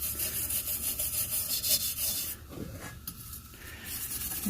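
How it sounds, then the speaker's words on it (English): A thin brass-bristle brush scrubs rust off the painted fount of a Kamplite lantern, a close, rapid back-and-forth scratching that eases off partway, then resumes more softly. "take this little bar brush, this thin brass bristles. See if I can scrub a little bit of that rust off right there"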